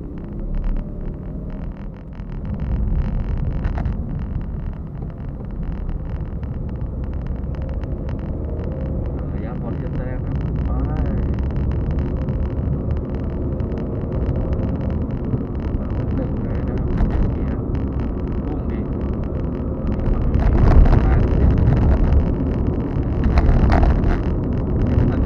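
Steady low rumble of a Suzuki Celerio's cabin while driving, with road and wind noise filling the interior throughout and a few louder swells near the end.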